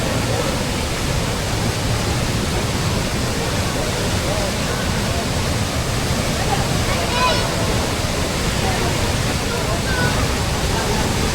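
Tegenungan Waterfall in Bali roars as a steady, dense rush of falling water, loud and continuous throughout with no break.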